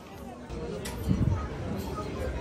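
Weekend crowd on Mall Road in Shimla, a dense murmur of many voices blending into a continuous babble, with one nearer voice speaking over it.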